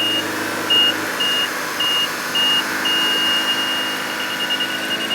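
A carbon cleaning machine hooked to a 2013 VW GTI 2.0L turbo sounds a warning beep: a series of short evenly spaced electronic tones that merge into a longer continuous tone, loud over a steady engine and machine hum.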